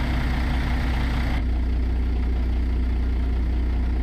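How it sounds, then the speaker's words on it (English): A Caterpillar C15 diesel engine in a cabover wrecker truck from a truck driving game idles with a deep, steady low rumble, loud and constant, and its higher tones drop away partway through. "it's a C15 MBN engine and sound pack by ZEEMODS"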